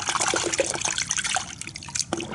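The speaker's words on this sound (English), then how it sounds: "I've got a gallon of hot water here" Gallon of hot water being poured into a bucket for a car wash, a splashing, trickling flow with bubbly gurgles, close and moderately loud without talk.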